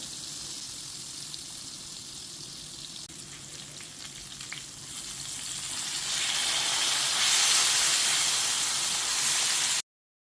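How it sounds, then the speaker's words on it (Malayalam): Fish coated in wheat flour frying in hot oil, a steady close sizzle and hiss that swells louder in the second half and stops abruptly. "ഒട്ടുമേ പൊടിഞ്ഞു പോകാതെ തന്നെ മൊത്തം ഞാൻ ഇതുപോലെ വറുത്തെടുത്തിട്ടുണ്ട്"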